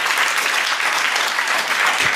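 Audience applause for a tech team at an event, a steady wash of clapping sustained throughout at close range with no speech.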